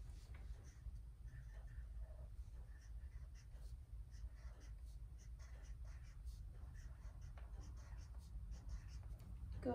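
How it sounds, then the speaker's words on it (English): A pencil writes a last name on paper, making steady, soft scratching strokes close up over a low background hum, with no clear talk. "Write your last name."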